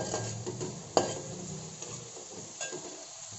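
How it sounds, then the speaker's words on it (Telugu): Onions frying in a pan for a spiced cauliflower curry, with a steady low sizzle, soft stirring scrapes and one sharp clink of a utensil against the pan partway through. "ఉల్లిపాయని బాగా వేయించుకోవాలి."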